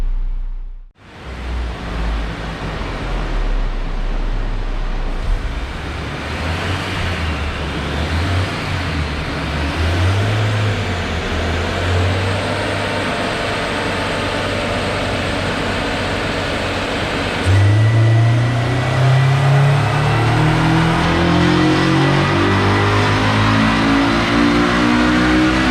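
A Honda S2000 running a Hondata FlashPro tune revs hard on a dyno, its engine note climbing through the gears in loud sweeping pulls with a brief shift break and a rising final run, no voices.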